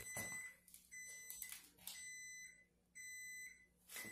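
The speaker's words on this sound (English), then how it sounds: "Can't hear because of the beeping." Short, high electronic alarm beeps sound in bursts inside a house, coming roughly every second with gaps between them. A few thumps and faint noises from the room fall in between the beeps.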